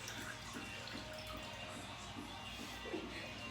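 A tap runs at a sink for hand washing, a soft steady stream of water splashing in the background, fairly faint and continuous.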